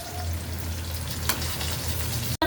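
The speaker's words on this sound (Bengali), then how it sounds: "ওইটা তেলে ভাজা ভাজা করে নেই" Prawns and tomato fry in hot oil in a pan, a close, steady sizzle with a low hum underneath, broken by a brief cut just before the end.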